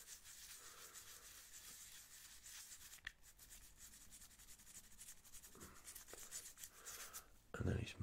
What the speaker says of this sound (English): Just give them a nice scrub, all over this eye.